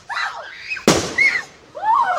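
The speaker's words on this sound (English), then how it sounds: "Is this another mortar?" A fireworks mortar shell bursts outdoors with a single loud, sharp crack and a brief crackling decay, while spectators' voices and excited calls are heard before and after it.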